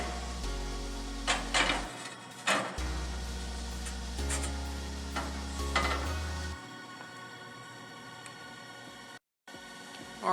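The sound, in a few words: pizza stone being lifted and inserted into grill grate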